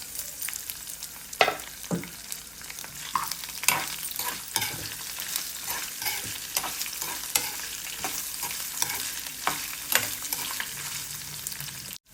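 Ginger pieces and dried red chillies frying in a tempering of spices in a pan, a continuous close sizzle punctuated by frequent stirring scrapes and taps, no one speaking.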